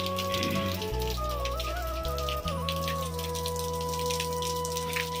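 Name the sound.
heavy rain falling on a village in Odisha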